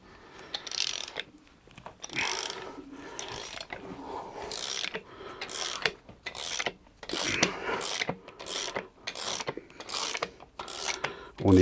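Wrench loosening bolts on a Hemi engine during crankshaft replacement, heard as close, rhythmic bursts of ratcheting metal clicks and scraping, repeated about a dozen times with short pauses and no talking.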